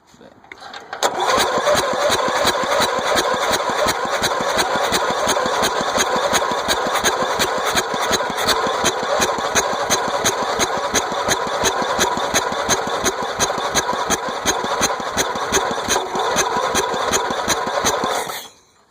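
A flooded engine catching after its first start, sputtering briefly and then running loud and steady with a rapid even firing rhythm under added gas for about seventeen seconds before cutting off, close and alone.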